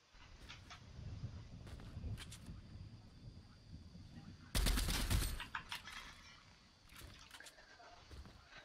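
Loud burst of gunfire in Fortnite, a dense rapid volley lasting about a second midway, with scattered fainter shots and game ambience around it and a voice talking over the scene.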